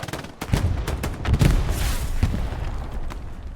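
Machine gun fire in the WWII shooter Hell Let Loose during a team match: rapid bursts of close automatic shots with sharp peaks, over a dense backdrop of distant battlefield gunfire.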